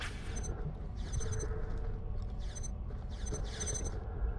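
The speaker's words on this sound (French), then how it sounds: "Maintenant, allume l'imprimante et elle te crachera tes affiches." A printer in the video game Borderlands The Pre-Sequel powers up with quiet mechanical whirring and creaking, broken by a few short, regularly spaced rattling bursts over a low background hum.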